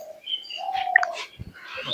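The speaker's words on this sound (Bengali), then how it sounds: "আবারও তোমাদের উদ্দেশ্যে কবুতর 3টে এক ঝলক দেখিয়ে দিই" High-flying racing pigeons at a flying club tournament give soft, nearby coos and short chirps in scattered bursts against a quiet background.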